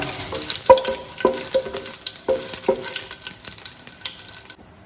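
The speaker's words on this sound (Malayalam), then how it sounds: "വറ്റമുളക് അഥവാ ചുമന്ന മുളക് മുറിച്ചിട്ട് കൊടുക്കുകയാണ് ഇതൊന്ന് ഒന്ന് ഇളക്കി കൊടുക്കാം" Cut dried red chillies being stirred in hot oil in a pan while cooking a vegetable pulao, with a steady sizzle and several sharp clinks of a spoon against the pan, no voices.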